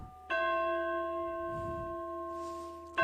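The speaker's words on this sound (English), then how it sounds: "They're church bells, Neil." A single church bell strikes sharply and then rings on with a long, steady, slowly fading hum, followed by the start of another strike at the end; clear and alone, without voices.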